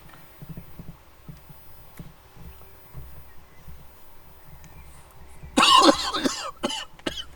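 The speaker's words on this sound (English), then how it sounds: "I'm coughing." A person coughs after trying to smoke for the first time, letting out a sudden loud burst of several harsh coughs near the end, close to the microphone, after a stretch of quiet shuffling and faint background sounds.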